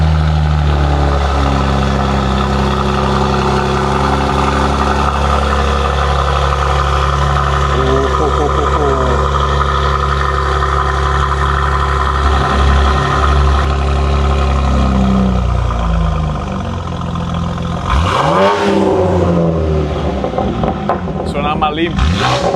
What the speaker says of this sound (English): We are about to hear the first startup.